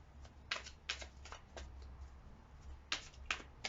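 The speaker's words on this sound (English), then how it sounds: "One more shuffle." Quick bursts of tarot cards being riffled and shuffled, several short clusters with brief pauses between, close and fairly quiet over a low hum.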